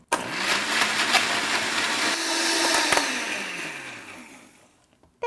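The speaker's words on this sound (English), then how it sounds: "throw it in my blender, and then add some water." A kitchen blender whirs steadily as it purées fruit chunks with added water, a loud continuous motor drone that dips in pitch partway through before winding down and stopping, with no talking.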